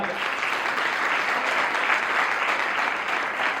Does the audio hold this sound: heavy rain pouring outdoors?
no